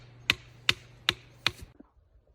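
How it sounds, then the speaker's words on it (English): A screwdriver strikes a rock four times in a steady rhythm, each a sharp close tap, followed by a fainter clatter and quiet. "I can easily break this rock with my screwdriver, right?"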